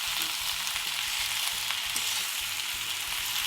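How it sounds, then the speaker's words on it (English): Dry fish chutney with Roselle leaves cooking in a pan, a steady hiss of frying and sizzling with faint stirring beneath, close and continuous. "Today we are going to cook this lip-smacking dry fish chutney with Roselle leaves"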